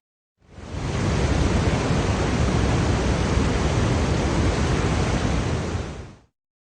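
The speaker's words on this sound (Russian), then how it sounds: "водопад" A broad, continuous roar of a waterfall fades in, stays loud and even for several seconds, then fades out.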